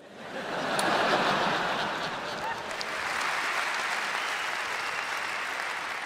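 Stand-up comedy audience applause at a Hazel Brugger show, a broad wash of clapping that swells, dips slightly, then rises again and holds steady for several seconds.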